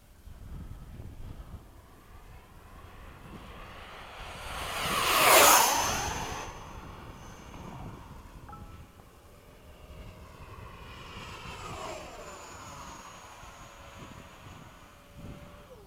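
An F/A-18 jet making a fast pass at low altitude: a distant roar swells to a loud, sharp whoosh overhead, then fades as it recedes, followed by a lingering engine rumble.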